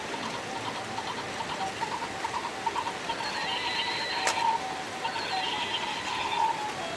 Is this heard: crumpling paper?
no